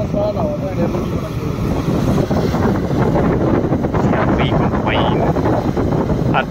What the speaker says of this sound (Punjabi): ਚੱਲ ਰਹੀ ਕੰਬਾਈਨ